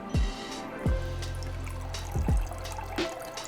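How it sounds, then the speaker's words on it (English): An aquarium hose is dipped into water, producing several deep, hollow gulping plops with a low resonant tone that lingers between them, close and distinct with no talk. "I'm gonna dip it into some water or put some water around it."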